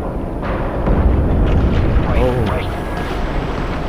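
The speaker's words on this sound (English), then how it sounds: "Oh, it's the bombs." Deep rumbling underwater explosions from mines and bombs in Call of Duty Modern Warfare 3, loud, heavy booms filling the clip, with a voice briefly speaking over them.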